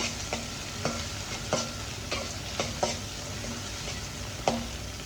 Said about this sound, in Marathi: आता त्याच्यामध्ये हा मी कांदा घालत आहे कांदा आपल्याला ट्रान्सपरंट होईपर्यंत शिजून द्यायचा आहे